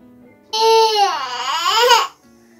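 A baby lets out a single drawn-out wailing cry, close and fairly loud, lasting about a second and a half before quiet returns.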